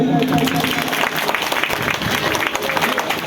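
An audience at a devotional religious gathering claps continuously, a dense, loud, even applause that holds steady throughout.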